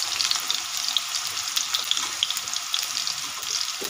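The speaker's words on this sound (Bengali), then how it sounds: "চলো আলুটা ভেজে নিই" Potatoes fry in a pan with a bright, continuous hiss and crackle, close and fairly loud, with small pops scattered throughout and no talk.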